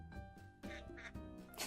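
A voice imitates a duck with a few short, nasal quacks, close and fairly quiet, spaced unevenly across the moment.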